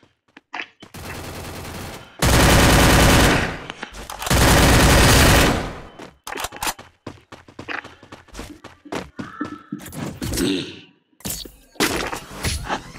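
Gunfire in the video game Free Fire comes in two loud, dense sustained bursts, followed by scattered sharp shots and impacts with short gaps between them.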